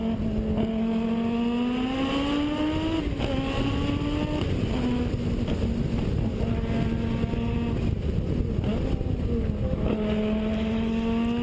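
Group B and legend rally cars race past, engines revving hard and rising in pitch through repeated gear changes, loud and continuous with no talking.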